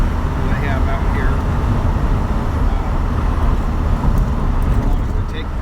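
A 1970 Volkswagen Karmann Ghia drives over a bumpy, rough rural road, a steady loud rumble of engine and road noise filling the interior, with faint rattles and brief chirps on top.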